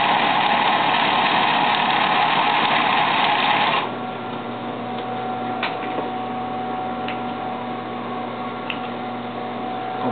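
A sewing machine stitching the front pocket of men's trousers, running in a loud, fast, steady whir, then shifting to a lower, softer hum with occasional small ticks.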